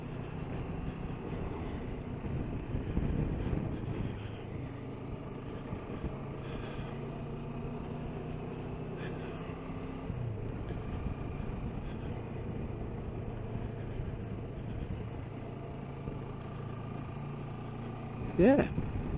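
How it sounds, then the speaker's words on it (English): A 2022 CF Moto MT650 motorcycle rides along in fourth gear at about 30, its engine a steady low drone with wind rush, with someone talking over it throughout. "fourth gear, pulls ever so nice at 30 in fourth"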